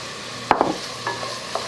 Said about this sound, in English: I'm going to add now my onions. It's a chopped onion, 1 yellow onion.